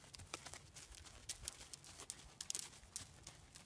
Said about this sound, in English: Oh, now she's riding a little bit better for you, Journey